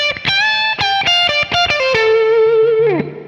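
A distorted electric guitar plays a quick lick, ending on a sustained bent note that slides down and fades.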